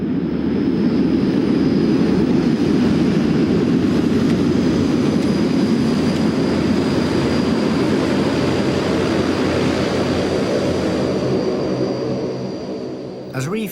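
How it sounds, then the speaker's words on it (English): A Russian-built cargo plane roars loudly and steadily while setting down at a jungle outpost, its engine noise holding strong before easing off at the end, with a voice speaking over it. "A Russian-built cargo plane puts down here every now and then with military and civilian supplies for this jungle outpost."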